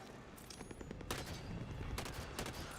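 Sustained turret gunfire in Halo 5 Guardians on Legendary difficulty, rapid bursts of shots at moderate distance that continue steadily with rising peaks around the middle and end, no talking.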